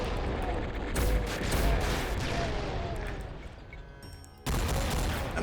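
Chaingunner enemies in the Doom game TNT: Evilution fire dense, rapid bursts of gunfire mixed with booms. The barrage eases briefly near the end, then resumes loudly.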